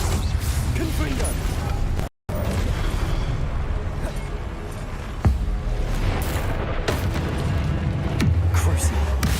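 A Confringo spell blast in Hogwarts Legacy gameplay lands with sudden booming impacts over a dense, rumbling backdrop of spellcasting and combat effects.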